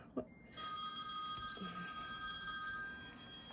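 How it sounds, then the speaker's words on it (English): A telephone rings in a home craft room with a steady, continuous bell-like trill, faint and somewhat distant, after a brief knock at the start. "hold on, we have a phone call"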